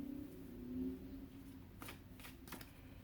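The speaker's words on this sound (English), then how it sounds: "they're a little easier to shuffle than the last two because they're smaller in size" Small circular tarot cards being shuffled, a few quick papery riffles and flutters close by, quiet and brief.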